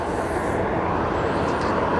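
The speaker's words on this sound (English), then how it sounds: "An A330 passed over the top of us during all that" Airbus A330 passing overhead at Aberdeen Airport, a loud, steady broadband jet roar heard from the ground, with a faint high whine fading in the first half.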